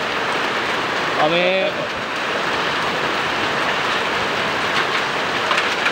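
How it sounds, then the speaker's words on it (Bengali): Hailstones fall outdoors in a dense, loud, continuous patter on surfaces, and a voice speaks briefly near the start. "হালকা হালকা উপর থেকে পাথর পড়ছে, শিলা বৃষ্টি, শিলা।"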